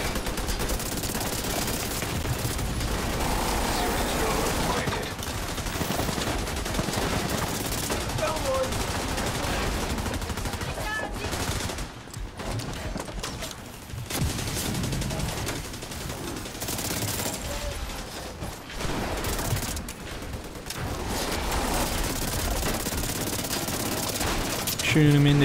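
Video-game gunfire in The Division 2 during an invaded Capitol Building mission includes dense, sustained bursts of automatic shots and turret fire with brief lulls. A player talks over parts of it.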